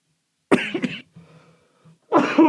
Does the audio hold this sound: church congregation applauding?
no